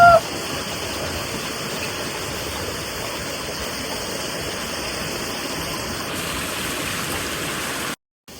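Steady broadband roar of a waterfall in a hidden forest spot among hills, stones and trees near Arusha, loud and continuous before cutting out abruptly at the end.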